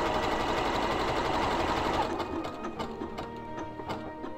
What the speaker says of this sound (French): je termine ma couture